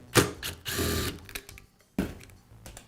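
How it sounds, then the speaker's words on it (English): A screw being backed out of the recoil starter on an Echo leaf blower, heard as short close ratcheting, whirring mechanical bursts with brief pauses between them. "Next, I'll remove the screw."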